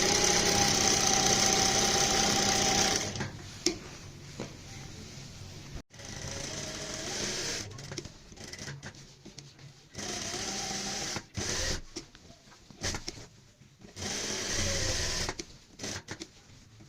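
A sewing machine stitches a salwar hem with Anchor thread, a close, loud mechanical whirring run in stop-start bursts with short pauses between them.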